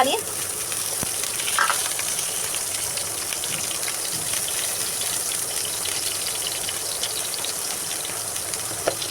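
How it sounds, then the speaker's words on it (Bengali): Chopped onions sizzle steadily in hot oil in a wok, a continuous crackling hiss with a few sharper pops. "কড়াইতে তো তেল দিয়ে দিলাম তো এখন পেঁয়াজ কুচি দিয়ে দিব"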